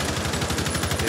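Rapid automatic gunfire in the tactical shooter Rainbow Six Siege, a fast steady rattle of shots, loud and close, with no talking.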